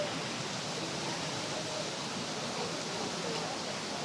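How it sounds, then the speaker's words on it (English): Steady broadband splashing and rushing of a small indoor waterfall in a large, colorful hot pot restaurant in China, continuous and fairly even throughout with no clear talk over it. "you've got this little waterfall right here"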